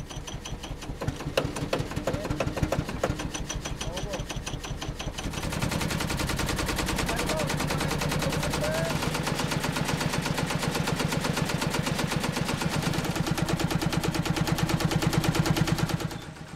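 Small engine of a little tourist train on the Lavières line, now running steadily after a hand-crank start: a fast, even mechanical chatter, sputtery at first, then settling into a loud continuous rattle that holds to the end.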